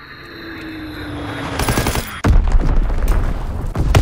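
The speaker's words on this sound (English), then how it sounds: "Enemy strafing run inbound!" An enemy aircraft strafing run in Call of Duty WWII: a rising engine drone builds, then loud rapid machine-gun bursts and impacts tear through for the last two seconds.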